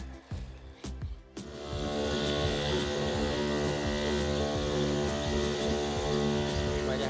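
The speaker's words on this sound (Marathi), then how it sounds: "यामध्ये हा पंप स्प्रे पंप आहे" A motorized spray pump sprays a fertilized cotton field, a steady droning hum with a fine hiss that starts after a brief pause and then runs on continuously, fairly close.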